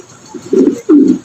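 A pigeon at a pigeon sale coos twice in quick succession, low soft throaty notes heard close and clear with no other sounds.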